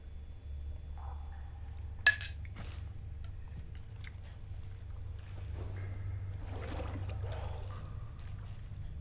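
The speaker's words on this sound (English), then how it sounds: "I'm just stirring a drink a little bit. If that spoon echoed through." A spoon stirs a drink in a cup, giving a quick pair of sharp, bright clinks near the start over a steady low hum; otherwise quiet, with no talking.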